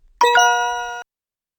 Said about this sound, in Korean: 딩동댕, 정답입니다.